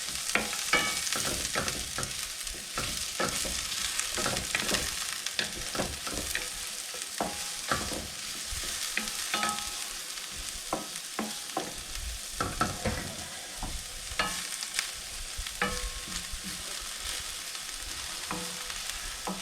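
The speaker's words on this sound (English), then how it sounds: "Give it a nice full stir." Rice and vegetables being stirred in a hot pan, a steady loud sizzle with dense clattering scrapes of the utensil against the pan, continuous for about twenty seconds with no talking.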